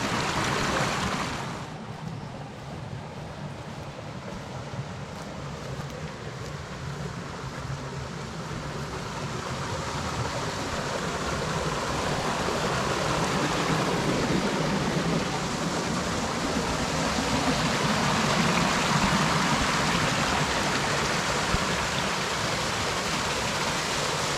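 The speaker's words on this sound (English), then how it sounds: "Got a waterfall on Claiborne." Waterfall pouring into a small pool on a hillside walk near Alwinton, with flowing stream water; a steady, loud broadband rush continues alone throughout, building slightly toward the end.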